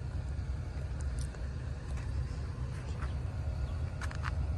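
A Kobelco SK140 LC Super XM excavator engine runs with a continuous, heavy low rumble, steady and fairly close, with a few faint higher chirps over it and no speech.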